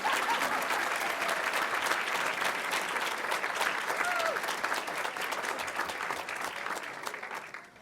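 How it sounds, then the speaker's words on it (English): An audience at a board meeting claps for a retiring payroll employee, a steady round of applause that fades out toward the end. "we want to give her an extra round of applause"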